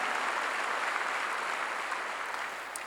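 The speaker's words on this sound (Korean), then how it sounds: "박수로 하나님께 영광 돌리는 거예요" Dense, sustained applause from a large church congregation, steady and loud throughout, easing off slightly at the very end.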